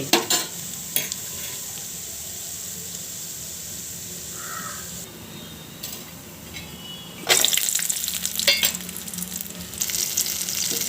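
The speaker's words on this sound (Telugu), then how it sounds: "ఇలా ఇవి వేగిన తర్వాత వెల్లుల్లిపాయల్ని వేసుకోవాలి" Lentils, dried chillies and garlic fry and sizzle in hot oil in a pan, a steady crackle with occasional stirring, growing louder and busier near the end.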